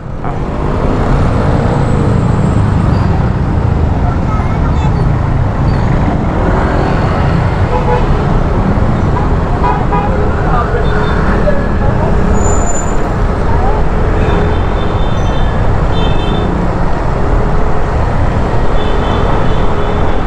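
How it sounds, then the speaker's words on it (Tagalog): Dense road traffic at Sangandaan in the Philippines rumbles steadily, with engines, passing buses and occasional horn toots, loud and close throughout with faint voices in the background. "Traffic pala dito."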